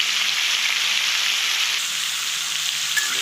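Potatoes with salt and a little turmeric frying in a pan, a dense, even hiss of sizzling oil that stays loud and steady throughout, with no talking.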